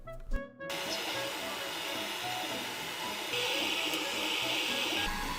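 ELEGOO Phecda laser engraver working on a wooden spatula with an air pump running, giving a steady close hiss and hum after a brief clatter at the start, with a slight rise in pitch partway through.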